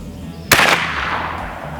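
A single sharp airgun shot fired at a target from a kneeling position with precision pellets, a close crack followed by a brief decaying ring, no talk.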